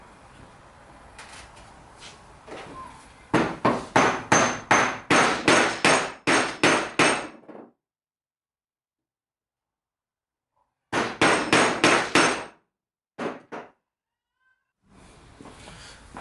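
Sharp metallic hammer blows drive PTC push-to-connect fittings into an old Airlift V2 air manifold, loud rapid strikes in two bursts with pauses of silence between and a couple of single hits.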